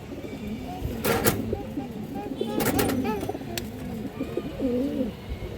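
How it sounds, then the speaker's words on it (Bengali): A big male pigeon coos in repeated low rolling phrases, close and clear, while people talk intermittently over it and a few sharp clicks break in. "এই যে দেখেন বিগ সাইজের নর কবুতর"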